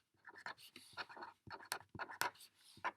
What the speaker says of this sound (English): I'm going to write Maisha should buy